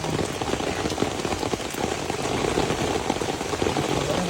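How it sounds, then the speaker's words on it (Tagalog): Heavy rain pours steadily onto surfaces outside beside a canal, a dense, continuous hiss of drops near and loud throughout, with no voices. "Ah, ang lakas na ulan."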